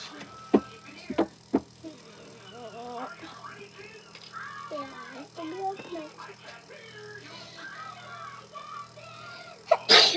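A few sharp sneezes up front, then people chatter and laugh over faint background hum, with another burst near the end.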